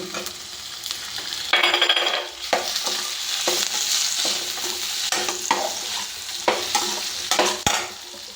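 A cup of tomatoes goes into a hot pan and is stirred, giving a loud, steady sizzle broken by repeated scraping strokes of the spoon, with no talk.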